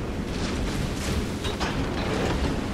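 A torpedo strikes a warship in the naval battle game World of Warships, producing a dense, sustained rumbling roar of explosion that fills the whole stretch at steady loudness, with no voices.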